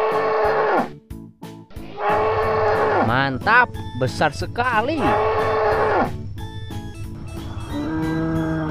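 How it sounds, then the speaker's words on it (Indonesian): Water buffalo lowing loudly in a few long, deep moos, close by, with voices talking over and between the calls. "Wow, ada kerbau,"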